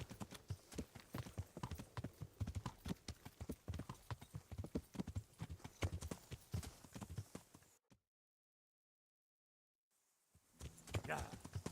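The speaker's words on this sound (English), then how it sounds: "Probably get the horse here." Horse hooves clip-clop in a steady walking rhythm while riding in the medieval game Kingdom Come: Deliverance, close and prominent with game sounds underneath, then a gap of silence before ambience returns.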